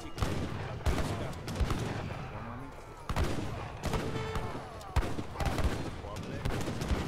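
Repeated musket volleys crackle and thump across an Age of Empires III battlefield, sharp bursts of gunfire arriving every second or so amid a dense, busy background of battle noise.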